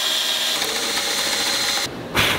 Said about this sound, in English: Let me get the drill and I'll drill these holes.